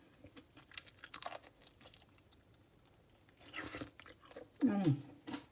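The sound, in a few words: chewing crunchy cheese-stuffed pepper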